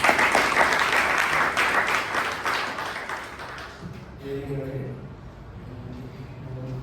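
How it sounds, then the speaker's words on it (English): Applause fills a Toastmasters club meeting room, dense clapping from the gathered members that fades and thins after about four seconds as a voice begins speaking over the tail. "Give a huge round of applause."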